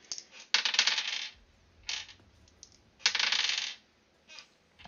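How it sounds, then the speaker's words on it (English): Dice rattle and clatter across a table during a tabletop role-playing session, with several distinct rolling bursts separated by short quiet gaps. "I'm rolling dice for two sets of encounters"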